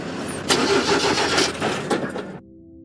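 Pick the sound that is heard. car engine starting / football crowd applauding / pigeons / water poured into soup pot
car engine starting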